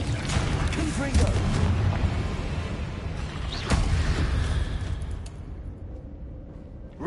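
Confringo fire blast spell in Hogwarts Legacy, a heavy booming burst with a sharp crack partway through amid rumbling combat noise that fades toward the end.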